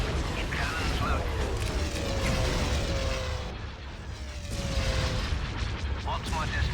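Cannon fire in the Star Wars Empire at War space battle, a dense sustained rumble of booming blasts and laser-like tones, loud and continuous with voices talking over it.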